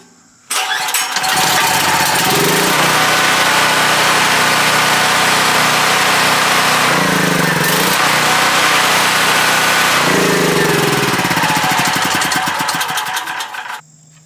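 A portable generator's small engine starts up and runs steadily at a loud, continuous drone for over ten seconds, with brief surges in pitch, then cuts off.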